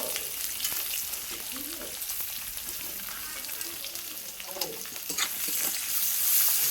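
Chopped onions frying in oil over a tempering of bay leaf and dried red chilli, giving a steady close sizzle with occasional spatula stirs and scrapes that grows slightly louder toward the end.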